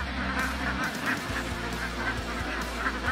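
Alabio ducks, a dual-purpose meat and egg breed, honk and quack repeatedly while feeding, a steady flock chorus close by with overlapping calls and no voices.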